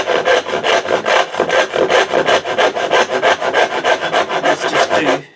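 A hand saw cuts through wood in a fast, even rhythm of strokes, each one a dry, rasping rush. The sawing is close and loud and runs alone for about five seconds.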